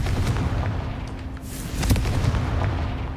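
A Confringo fire spell bursts in the Hogwarts Legacy video game, a dull boom over a constant rumbling game background, with a brighter crackling flare in the middle, loud and close.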